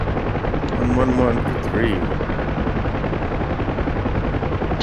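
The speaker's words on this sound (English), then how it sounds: "These 50 cals do, like, absolutely nothing against helicopters" A UH-1H Huey helicopter's rotor thrums steadily in the combat flight game DCS World, with occasional bursts of .50 cal machine-gun fire, while a voice speaks over the radio.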